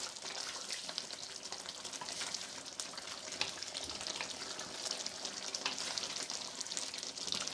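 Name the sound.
mutton masala frying in oil in a kadhai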